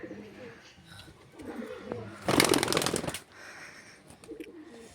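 Fantail pigeons coo softly at close range, with a loud burst of fluttering wing noise in the middle and faint shuffling around them.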